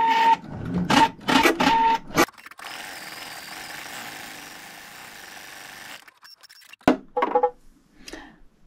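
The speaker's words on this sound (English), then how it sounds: "It's going to do the zigzag now" A sewing machine stitches a zigzag across a crazy quilt, with short bursts of loud rattling stitching at the start, then a steady hum, then a few more brief bursts.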